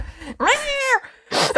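A human voice imitates a cat's meow, a single drawn-out, rising-then-falling cry standing alone between brief bursts of breath or noise.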